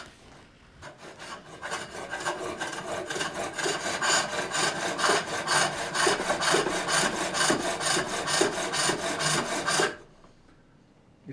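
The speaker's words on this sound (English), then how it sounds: "It cuts pretty nice when you have that burr." A wooden lidded box being turned on a foot-powered pole lathe gives a steady run of rhythmic rasping cuts, each stroke pulsing in quick succession for several seconds before stopping abruptly.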